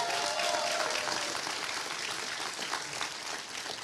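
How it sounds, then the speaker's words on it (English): An audience at a school graduation applauds the graduates, a full, continuous round of clapping that starts strong and gradually thins, with a brief cheer near the start. "Can we just applaud our kids one more time,"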